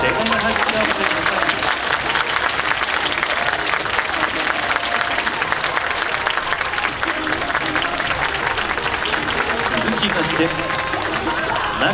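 Audience at an anime preview screening for MF Ghost claps loudly and continuously, a dense even wash of applause with faint crowd noise beneath.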